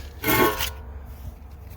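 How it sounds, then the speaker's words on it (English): A Milwaukee 3/8 drill spins a 6-inch, 180-grit sanding pad against car bodywork, giving one short, loud abrasive rasp of about half a second before dropping back to a low background hum. "I'm using my Milwaukee 3/8 drill with a 6-inch sand pad and 180 grit."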